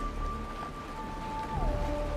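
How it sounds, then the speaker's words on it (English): Steady rain hisses in a Honkai: Star Rail game scene as a dense, even wash under faint sustained musical tones, with no voices present. "It is raining!"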